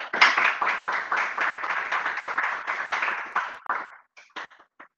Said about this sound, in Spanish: Así que un aplauso y espero que os guste.